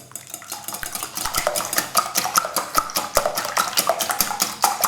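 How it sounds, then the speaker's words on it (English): A whisk beats an egg mixture for French toast in a bowl, a brisk, steady run of metallic clinks and scrapes that carries on without pause and without any talking. "I've just given that a quick whisk"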